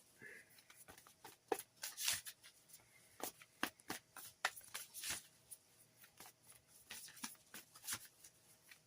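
Oracle cards being shuffled by hand, a quiet close series of crisp riffling and flicking bursts in irregular clusters, with no talk.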